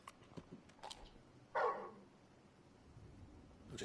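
Torgal, the wolf-like hound in Final Fantasy 16, gives one sharp bark. It rises out of quiet game ambience with a few faint scuffs before it and a low background hum after.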